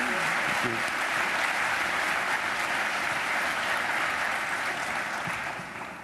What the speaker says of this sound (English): Let's give a big round of applause to our fitness trainers today.